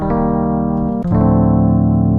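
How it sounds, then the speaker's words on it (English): Warm, mellow Rhodes electric piano chords ring out loud and sustained, shifting to a new chord about halfway through. "my second instrument that I'm going to use is this nice warm Rhodes"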